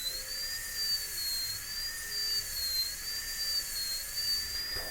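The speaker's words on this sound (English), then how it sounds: "I'm going to go lingually a little more over here with the burr right next to the adjacent tooth" A high-pitched dental drill whines steadily as the bur cuts an upper molar, a constant wavering tone with no pauses and no talking.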